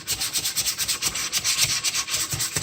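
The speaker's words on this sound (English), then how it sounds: "All I'm trying to do is just trying to get a good majority of that sanding sealer off this thing." Sandpaper rubs sealer off a wooden bass guitar body in quick rhythmic back-and-forth strokes, close and scratchy, with no voices over it.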